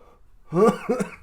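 A person coughs in two quick, harsh bursts at close range, loud against a quiet room, with no talking during the clip.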